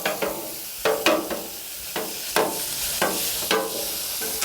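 Ground beef sizzles steadily in a hot pan while a spatula breaks it apart, with repeated scraping strokes cutting through the constant frying hiss, loud and close.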